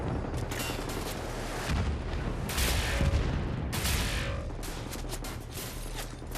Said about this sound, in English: Every time I look over, he shoots a rocket and I can't see him.